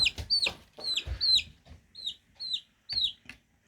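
Chickens cluck in short, sharp, repeated calls, close and fairly loud, about a dozen bursts in quick, uneven rhythm with brief pauses between them.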